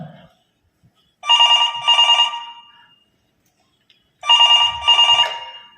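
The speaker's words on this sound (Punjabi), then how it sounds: "ਮੈਂ ਇੱਕ ਜਗ੍ਹਾ ਰੁਕਿਆ ਤੇ ਮੈਂ ਰੁਕ ਕੇ ਬਚਨ ਕੌਰ ਨੂੰ ਫੋਨ ਲਾਇਆ" Outgoing phone call ringback tone, two long double-pulsed rings separated by about two seconds of silence, clear and close with no talk over it.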